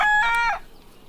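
A Rhode Island Red chicken in backyard poultry gives a single short, loud cluck that fades quickly.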